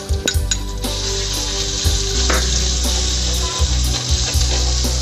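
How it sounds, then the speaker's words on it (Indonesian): Loud, steady sizzling of ground spice paste frying in hot oil for chicken tongseng, with repeated scraping and clinking of a spatula stirring in the pan. "Ditumis terus sampai wangi ya."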